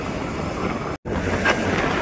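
Surf at Akkayapalem Beach, with ocean waves washing steadily under heavy wind noise on the microphone, broken by one brief dropout midway.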